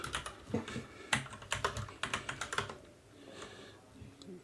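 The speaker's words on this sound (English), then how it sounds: "I have a bad keyboard." Fingers type on a computer keyboard while someone writes code, a quick run of close, crisp clacks in an uneven rhythm that then thins out into a few scattered taps.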